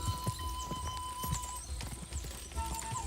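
Hooves of a horse clip-clop in rapid galloping rhythm during a horse race in Kingdom Come Deliverance 2, steady and moderately close under game ambience.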